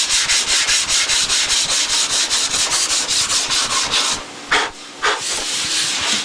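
A hand rubs briskly back and forth over a surface to feel for dry spots, a loud, close, rhythmic rasping like sandpaper, steady strokes followed by a couple of slower, separate sweeps.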